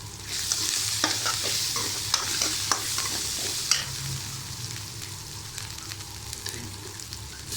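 Tomatoes tossed into hot oil after onions and stirred in a pan, a close crackling sizzle with sharp scraping and tapping from the spoon, no talking.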